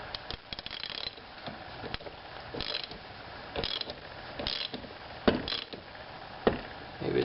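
A ratchet tightens a screw or nut on a 1928 Farmall tractor, making close, crisp clicking bursts in irregular runs with short pauses between strokes and no talking.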